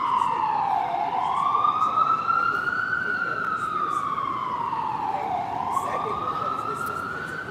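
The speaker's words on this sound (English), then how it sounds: "let me let this ambulance go by" An ambulance siren passes close by on a street, its wailing tone rising and falling in slow sweeps and staying loud and prominent throughout, with no talk over it.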